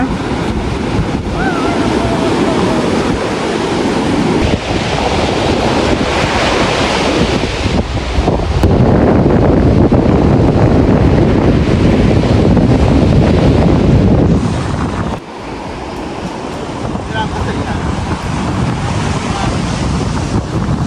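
Large sea waves break and surge steadily onto a beach shore, a loud, continuous roar mixed with heavy wind buffeting the microphone, briefly dipping before rising again.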